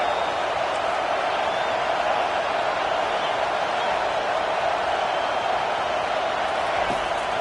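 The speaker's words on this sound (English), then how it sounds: "Listen to this crowd just shaking the girders of this place" A packed stadium crowd roars in a steady, dense wall of noise at a USC college football game, holding at a constant loud level without letting up.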